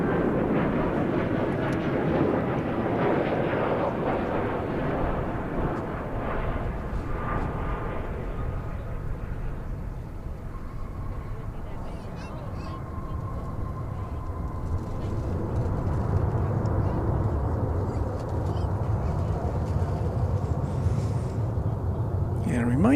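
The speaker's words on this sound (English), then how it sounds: "American Flight 2904 from San Francisco is coming into view now. It's an Airbus A321" An American Airlines Airbus A321 arriving from San Francisco lands at DFW airport, its broad engine roar rising and falling steadily over many seconds outdoors, loud and sustained, with a faint tonal whine mid-way.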